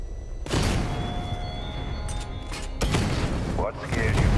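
Batmobile battling tanks in Batman Arkham Knight, with heavy cannon booms and explosions punching through a constant rumbling engine and mechanical drone, the loudest blasts near the half-second mark and just before the third second.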